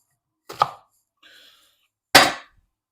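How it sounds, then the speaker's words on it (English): Onions are chopped with a knife, giving a few sharp, separate cuts on a board: two distinct knocks with a soft scrape between them, close and clean with no talk. "what we're going to start off with first is chopping our onions"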